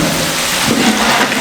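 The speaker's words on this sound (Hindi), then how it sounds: "इसको मैंने फ्राई कर लिया बादामी कलर में।" Chicken pieces fry in hot oil until golden brown, cooked in large batches of about two kilograms for a degi chicken pulao. The oil gives a dense, steady sizzle that sounds like heavy rain and continues without a break.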